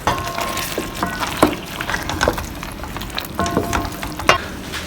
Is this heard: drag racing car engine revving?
no